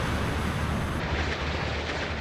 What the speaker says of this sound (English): Missile launch, missile launch.